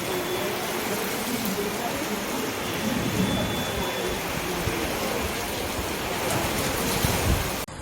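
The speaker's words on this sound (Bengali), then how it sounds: "মুসল ধারায় বৃষ্টি নেমেছে দেখতেই পাচ্ছ" A heavy rain downpour during a storm, a dense, steady roar of falling water that stays loud and close for the whole stretch without a break.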